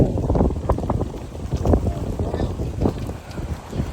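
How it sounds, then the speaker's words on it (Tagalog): Strong wind buffeting the microphone at an outdoor breeder cage, with loud, continuous low rumbling and gusty bursts throughout. "Sobrang lakas ng hangin"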